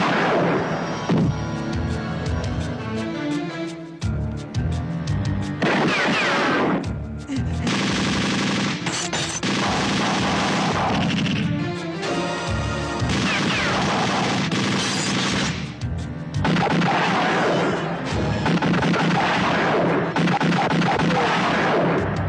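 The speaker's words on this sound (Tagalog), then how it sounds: "Anong putukan yon?" Dense gunfire and explosions rattle through a Filipino action movie firefight, rapid machine-gun bursts and heavy booms packed almost continuously, with a few brief pauses between volleys.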